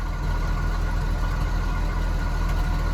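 A 1982 Ford F-150's inline-six engine idles steadily nearby through a custom two-muffler single exhaust with a slight exhaust leak, a low, even rumble with no change in pace and no voices.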